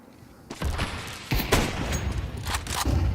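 Counter-Strike 2 gunfire in a competitive esports match, with a short burst of shots followed by further sharp, loud volleys and booming reports over a few seconds.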